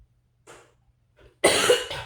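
A couple of faint throat sounds, then one sharp, loud cough up close, trailing off into a second rougher hack.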